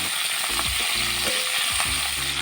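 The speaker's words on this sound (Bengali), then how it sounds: "তেল ভালো করে গরম হলে ব্রকোলিগুলো দিয়ে হালকা ভেজে নেব।" Broccoli fries in hot mustard oil in a wok with a steady, close sizzle, punctuated by a few clanking stirs of a utensil against the metal.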